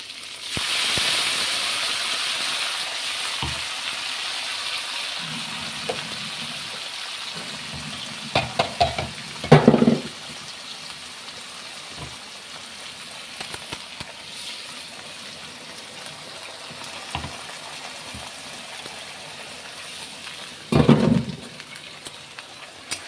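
Tomato and spices frying in a pan for a kochu shak (taro leaf) dish give a steady close hiss and sizzle, broken by a few louder stirring scrapes and clatters.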